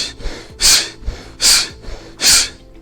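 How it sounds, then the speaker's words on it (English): A person exercising with a talk test jogs and breathes heavily, taking three loud, close, rhythmic gasping breaths about a second apart, with softer breathing sounds between them. "And I'm jogging and breathing."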